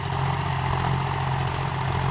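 John Deere tractor with a 3029 three-cylinder 53 HP engine running steadily while driving a mounted tiller through dry soil, a continuous low diesel drone held close and even, with no talk.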